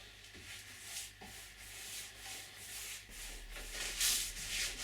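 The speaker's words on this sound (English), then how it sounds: "Under the flange I may paint later, but for now I varnish." Brush strokes laying polyurethane varnish onto a kayak hull, soft rhythmic rubbing swishes repeating close by, faint and steady with no voices.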